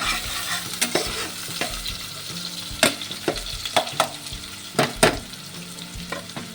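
Onions frying in a pan, a soft, steady sizzle punctuated by sharp, irregular knocks and scrapes of a spoon stirring against the metal, close up with no talking.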